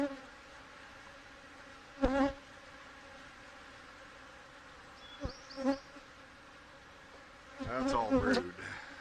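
An angry honey bee hive hums with a steady, dense buzz throughout, with a few sharper bursts of bees flying close by the microphone near the start and toward the end.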